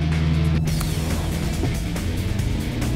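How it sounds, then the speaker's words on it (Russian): Toyota sedan launched from a standstill using both pedals, its engine revving up with a rising, continuous roar heard from inside the car, loud and steady throughout. "Так, разгончик в две педали."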